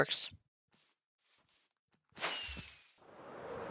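Firework rocket boost in a Minecraft-style game, a rushing whoosh that swells and then holds as a steady hiss, preceded by a few short soft sounds and near silence.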